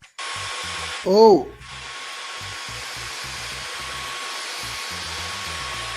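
A 1960s vacuum cleaner in normal mode switches on and runs with a steady, loud broadband whoosh and motor hum from start to finish. A brief rising whine near the beginning comes with a short exclamation.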